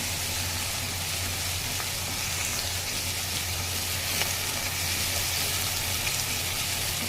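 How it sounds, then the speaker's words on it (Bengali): Onion and garlic with a pinch of salt fry in a pan, giving a steady, even sizzle with soft crackle that holds at an unchanging level throughout, with no voices. "তো পেঁয়াজ আর রসুনটা আমি ভালো করে ভেজে নেব আগে।"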